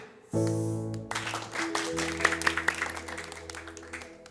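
A children's audience gives a cross clap, starting with a loud held tone and followed by scattered rhythmic claps that build and then fade, with some voices mixed in.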